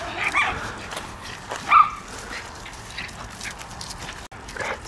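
A puppy and an older dog play roughly at home, with yips, whimpers and short barks coming in bursts over a steady background noise, fairly close.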